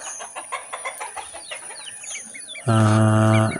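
Country chickens cluck and chirp in quick, soft bursts, then a louder, drawn-out, tonal call breaks in near the end.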